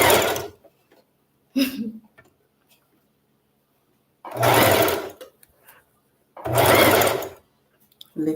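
Singer sewing machine stitching a curved lace frontal unit, running in several separate bursts with quiet pauses between them, each run a dense mechanical whir of repeated stitches, up close.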